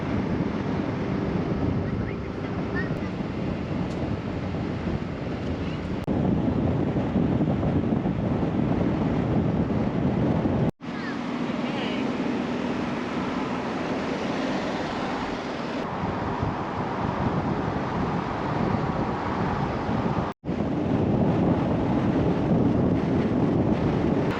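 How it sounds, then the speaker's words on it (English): Strong, steady wind buffets the microphone at a High Country campsite, a continuous broadband roar with gusty swells and two brief dropouts, with no voices over it. "It's a bit windy here"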